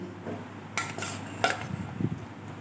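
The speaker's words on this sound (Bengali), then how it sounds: "জল ঝাড়িয়ে আমি একটা বোলের মধ্যে তুলে নিলাম" Boiled banana flower is lifted from draining into a bowl: a few clinks and knocks of utensils against a bowl over a quiet background, with brief scrapes near the end.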